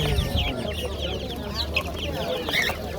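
A rooster and hens cluck in a busy outdoor poultry market, their calls close and overlapping in a steady stream, with faint human voices mixed in behind.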